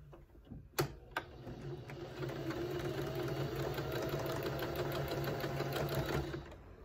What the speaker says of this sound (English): I'm gonna put them right sides together, line them up, and sew them 1/4 inch.